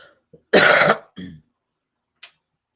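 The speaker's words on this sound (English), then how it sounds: "Excuse my cough." A single harsh, loud cough up close, followed by a shorter throaty rasp and a faint click, with silence between.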